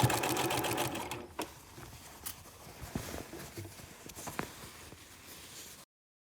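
A sewing machine stitches a shirt sleeve seam with a steady mechanical whir, busy at first, then thinner and softer with intermittent clicks and knocks, before cutting off abruptly near the end.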